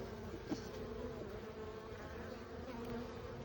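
Honeybees swarm around an opened hive being spot-checked on a cool day without smoke, a dense, steady buzz of many insects up close, with one bee droning louder near the beekeeper's veil.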